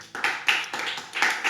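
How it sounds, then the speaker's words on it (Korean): A church congregation at a worship meeting claps together in glory to God, a brisk, rhythmic series of sharp hand claps at a steady beat, fairly close and with no voices. "우리 하나님께 영광의 박수 올려드리겠습니다."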